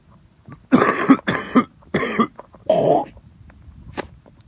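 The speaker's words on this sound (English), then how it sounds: "I got a cough that just fucking won't go away." A harsh, lingering cough comes as four or five loud barking bursts in quick succession, close and alone, followed by a softer throat sound.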